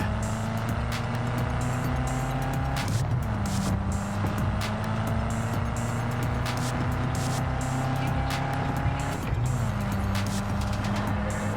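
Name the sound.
Mustang car driving in video game Cyberpunk 2077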